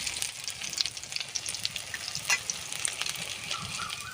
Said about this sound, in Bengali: কত সুন্দরভাবে আলুর পকোড়াগুলো ভাজা হচ্ছে